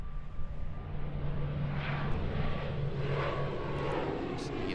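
An ATR 72 turboprop departing Christchurch Airport at blue hour, a moderately distant, steady engine drone with a sustained tonal hum that carries evenly throughout.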